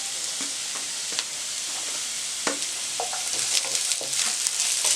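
Capsicum and green chillies stir-fried with carrots in a hot pan, a continuous sizzle broken by repeated clacks and scrapes of a spatula that grow busier toward the end.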